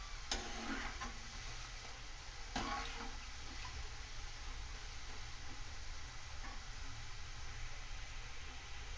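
Namak paare, pieces of maida dough, frying in oil over a low flame, giving a steady soft sizzle with a few faint clicks and pops throughout and no voices.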